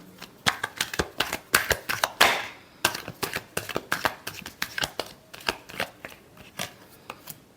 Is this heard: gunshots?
no